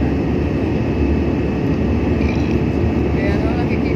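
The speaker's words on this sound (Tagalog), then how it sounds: "nakalipad na po ang sinakyan namin ng aeroplano" Airplane cabin noise just after takeoff, with a steady, loud broadband engine and air roar holding constant throughout and a voice talking over it.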